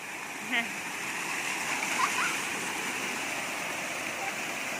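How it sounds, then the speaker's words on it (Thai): Water pours steadily at the Huai Tat waterfall in Ban Pao, a close continuous rush with a few brief splashes and faint voices briefly breaking through. "น้ำตกไม่อันตรายนะครับ"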